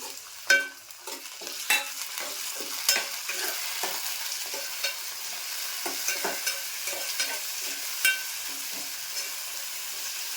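Curry leaves and tomato fry in a pan for a Malvani prawn masala, with a soft continuous sizzle broken by frequent spatula stirs and scrapes at close range.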